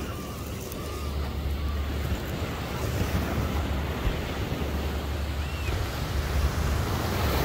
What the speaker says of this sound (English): Hear that ocean, guys.